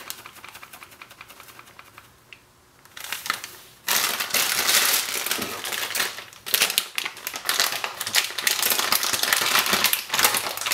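A paper bag of King Arthur gluten-free flour is handled for bread dough, starting as soft rustling and then becoming a loud, continuous crinkling and crunching of the bag up close, with no talking.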